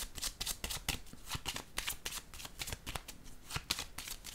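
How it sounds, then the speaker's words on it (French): Tarot cards are shuffled and laid down in a steady run of crisp riffling bursts and soft slaps, close and fairly loud, with no voice. "Je pense que je vais déposer une carte ici."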